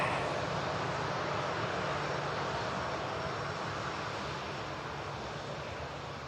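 Heavy aircraft departing Manchester Airport, a loud, even jet roar that slowly fades as it moves away, with no talking.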